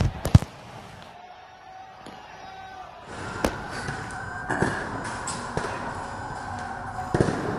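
Fireworks thrown by protesters at a street protest bang and crack in sharp, scattered bursts, some close and loud, others farther off, over a murmuring crowd background.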